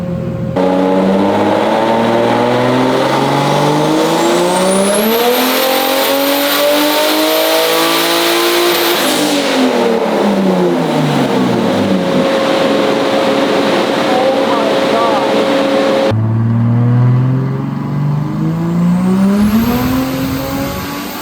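A forged turbocharged M50 engine in a BMW E30 revs hard on a dyno, pitch climbing through long loud pulls under high boost, dropping off, then rising again, with a whistling turbo tone above.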